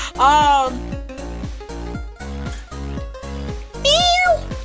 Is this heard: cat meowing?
yes